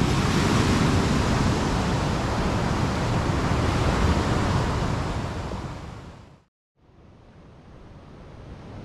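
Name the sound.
ocean waves at Pidakan beach, Pacitan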